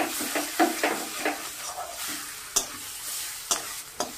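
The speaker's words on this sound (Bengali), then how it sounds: "মশলাটা ভাজা হয়ে গেছে" A ground ginger, cumin and chilli paste, with tomato paste, turmeric and salt, fries in a pan for a rohu fish curry. It sizzles steadily, with scraping stirs and sharp spoon knocks against the pan at intervals.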